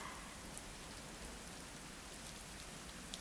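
Steady rain effect in a stage play performed in an auditorium, a dense, even hiss of falling drops that runs without pause throughout, fairly soft and with no voices over it.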